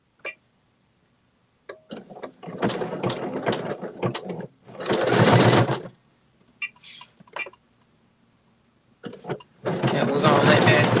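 A sewing machine stitches fabric in several bursts of rapid mechanical whirring separated by pauses, with a voice talking between runs.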